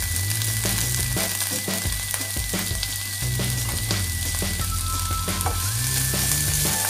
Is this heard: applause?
no